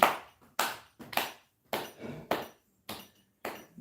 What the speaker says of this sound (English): So now we can also clap the rhythm.